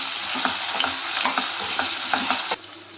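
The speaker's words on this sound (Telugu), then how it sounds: "మనం మగ్గించి పక్కన పెట్టుకున్న కాలీఫ్లవర్ని ఇందులో యాడ్ చేసుకొని కొంచెం ఫ్రై చేసుకోవాలి." Cauliflower frying and being stirred in a pan of masala curry base, a steady close sizzle with repeated scraping stir strokes, no voices.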